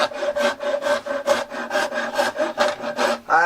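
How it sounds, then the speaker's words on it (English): A hand rasp scrapes along the wooden edge of a bass guitar body being contoured, in about ten quick, even back-and-forth strokes, rough and raspy, heard up close with no talk. "I don't have to be careful either with the rasp, because it will take out little pieces of the edge."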